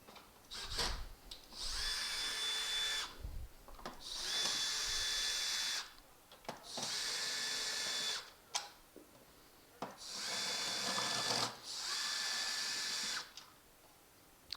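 A power driver whirs in repeated bursts of a second or two each, removing screws from the HEPA filter assembly on the back of a Rainbow SRX vacuum cleaner, with short quiet gaps between.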